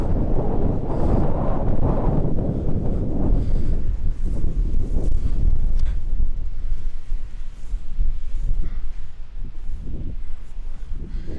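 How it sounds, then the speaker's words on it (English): Strong outdoor wind buffets the microphone beside a huge wartime concrete bunker, a loud, continuous low roar and rumble with gusting surges and no voices. "The wind has picked up enormously, so I'm very sorry about any wind noise."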